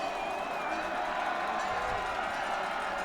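A college football crowd roars to its feet on a third-and-long play at midfield, a dense, sustained wall of cheering and shouting that carries evenly throughout.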